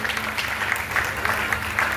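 Audience clapping for a leader at a Mangalagaur women's singing and dance competition in Karad, Satara: dense, steady applause from a crowd, fairly loud and continuous throughout.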